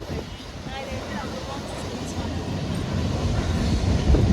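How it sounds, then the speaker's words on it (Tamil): Rumbling, rattling passing train noise near a railway station builds steadily over a broad low roar, with faint squeals and a voice talking partway through. "ட்ரெயின் போகுது"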